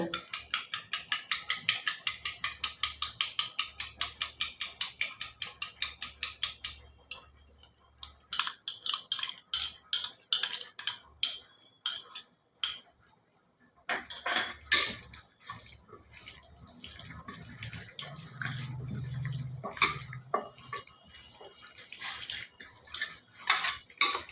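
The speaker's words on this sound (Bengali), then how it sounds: "টক দইটা ফেটিয়ে এর মধ্যে দিয়ে দেব" Sour yogurt whisked in a bowl while preparing a Bengali chicken bhuna, giving about seven seconds of quick, steady scraping strokes followed by looser clinks and clatter close by.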